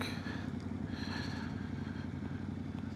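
Yamaha Tenere 700 motorcycle from 2025 under engine braking, a steady low engine drone with a faint rattling texture and no talk.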